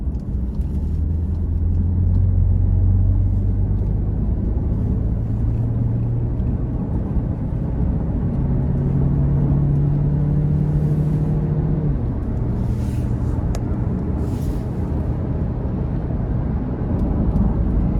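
A 2018 Volkswagen Tiguan with a 2.0 turbo four-cylinder accelerating hard onto an interstate, with a steady loud engine drone and rising tones heard from inside the cabin alongside road rumble and no talking.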